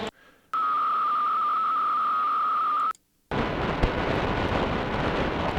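Radio static with a steady whistling tone cuts out briefly, then gives way to a rush of harsh hiss as the dial sweeps quickly.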